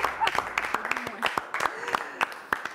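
A studio audience claps steadily for a few seconds on the French cooking competition show for couples Couple & Cuisine, a dense patter of hand claps with a voice audible underneath.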